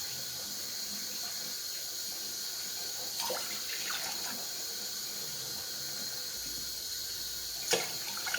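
Four cups of water poured into a pot for pandan jelly, a steady close hiss of running water lasting several seconds with a couple of faint clinks, no talking.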